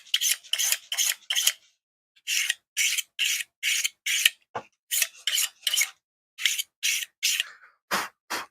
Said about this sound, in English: This time I am going to sharpen it while I've got a moment.